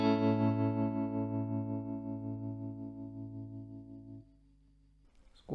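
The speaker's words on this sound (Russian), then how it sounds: "И мы можем заодно и послушать, как звучит Tube Bias тремоло." A guitar chord through a Fender Princeton Reverb amp rings out with tube-bias tremolo pulsing its volume in a steady rhythmic wobble, fading over about four seconds before a brief noisy touch at the end.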